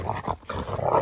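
A dog growls in play within a pack of many dogs, a brief, close, rumbling growl broken by a short pause.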